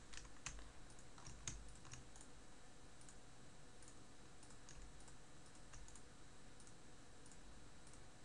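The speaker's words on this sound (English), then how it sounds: "All I'm doing is I'm just hitting control, selecting all of them, right hand clicking" Faint computer keyboard keystrokes and mouse clicks tap in quick irregular bursts over a steady low hiss, close but quiet, with no voices.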